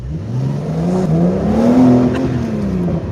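A Porsche out on the road in Dubai, its engine rising in one smooth, loud, close acceleration with climbing revs, peaking and then easing slightly, no talking over it.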